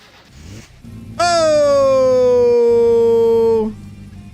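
A carburetted gas engine catches after cranking and roars loudly at a steady, high, droning pitch, held wide open for a few seconds before easing down to a lower idle.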